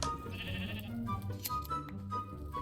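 Minecraft sheep bleating in a game world, several wavering bleats close up over a steady low background hum, with no talking.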